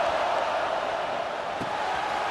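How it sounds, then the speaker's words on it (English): Stadium crowd in the video game EA Sports College Football 26, a dense, steady roar of many voices filling the space, with a brief thud near the end. "Listen to the crowd energy here in the early going."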